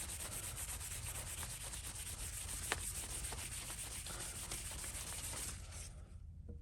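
A scrubbing pad rubs back and forth on an oil pick-up tube from a 2005 Chevy Silverado, a close, steady, gritty scraping hiss with quick rhythmic strokes that stops near the end.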